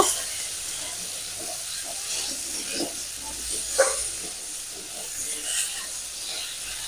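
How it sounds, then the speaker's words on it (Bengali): Cumin paste is being stirred in a frying pan for a thin koi fish and potato curry, giving a steady soft sizzle and hiss with a few brief scrapes of the spoon. The sound is close and moderately quiet, and no one speaks. "এবার দেবো জিরে বাটা এটাও একটু নাড়াচাড়া করে নেব"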